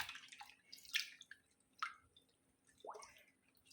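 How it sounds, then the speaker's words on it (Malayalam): Quiet, intermittent sloshing and dripping as rice water is stirred in a container, with a few soft splashes and gaps between them. "ഞാൻ ഇത് നല്ല പോലെ കലക്കി എടുക്കട്ടെ"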